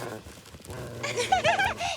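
Small yips and whimpering barks from young dogs, high and squeaky, bursting in over a low murmur of background voices.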